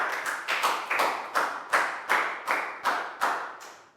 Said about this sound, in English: High five and a big round of applause for Lakgao